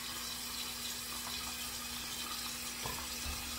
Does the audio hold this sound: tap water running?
yes